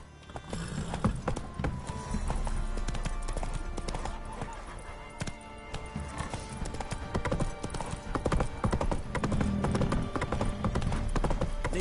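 Roach, a horse in The Witcher 3, galloping in quick rhythmic hoofbeats that run throughout under game music and other sounds, with a short voice early on.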